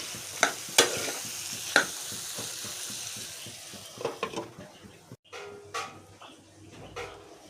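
Chana masala cooking in a pan, sharp spoon clanks and scrapes against the metal at irregular intervals over a faint sizzle, close up, with a brief pause and a few softer stirring knocks toward the end.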